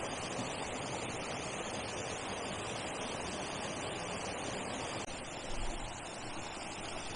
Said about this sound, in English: And there's a nice little set of cascading waterfalls.